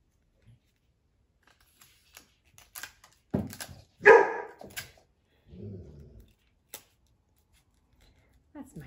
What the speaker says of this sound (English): He barks at every sound.